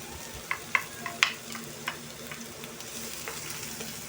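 Pork sisig with garlic and onion sizzles in a pan while being stirred, with a soft steady fry and a few sharp spatula clinks near the start.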